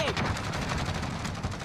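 Rapid gunfire rattles in bursts during an online shooter match, with sniping from the far side, a dense, loud crackle of shots that runs the full length without a break.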